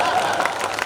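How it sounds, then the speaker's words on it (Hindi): Audience applause at a poetry gathering (kavi sammelan) in Hempur, Sitapur, a short burst of dense, steady clapping from a crowd with some voices mixed in. "कौन कहता है हेमपुर में तालियां नहीं बजती? ये देखो बिना कहे बज रही है।"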